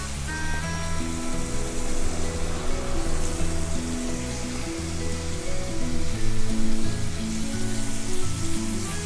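Chicken pieces frying in a pan over high flame with softened onion and tomato, a steady close sizzle running throughout over a musical backing, with no talking.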